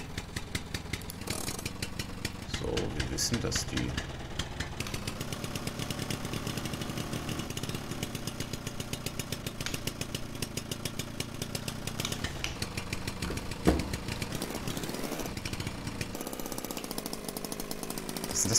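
A Trabant car's small two-stroke engine runs after being started, a loud, rattly, buzzing idle with rapid pulsing that revs up and down, close by, with a brief spoken phrase at one point.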